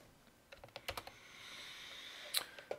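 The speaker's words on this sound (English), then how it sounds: "we can just tap the number keys" Quiet, close taps on computer number keys during Photoshop work, a handful of light clicks in an irregular run and then a couple more near the end, with no speech.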